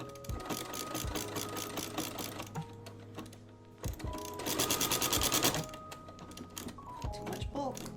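A sewing machine stitches a fabric face mask, running in steady bursts with short pauses and restarts, close and moderately loud, while people talk over it.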